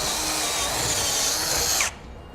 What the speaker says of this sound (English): I'm going to take a drill bit and I'm going to drill a hole so I can mount my breakaway switch.